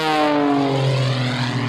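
A CAP 232 aerobatic monoplane corkscrews down through consecutive snap rolls into a high-speed dive at an air show, its propeller engine giving a loud, steady drone with a slowly shifting pitch and no voices over it.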